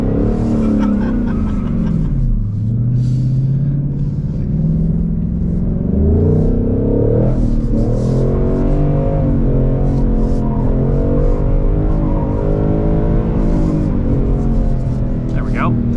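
A 2022 Ford Mustang Mach 1 with an automatic gearbox doing donuts on a wet skidpad, its engine revving and rising and falling continuously beneath someone talking throughout.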